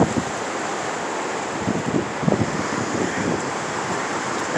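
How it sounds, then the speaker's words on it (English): Strong wind storm blowing outdoors under a brown, dust-filled sky, a steady roaring rush with buffeting gusts against the microphone, loud and continuous with no talk. "Look at that wind."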